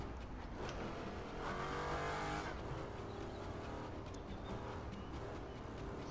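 A car engine in The Crew 2 drones continuously at moderate distance, with a rising surge of revs partway through and light tire noise, steady and unbroken, with no voices over it.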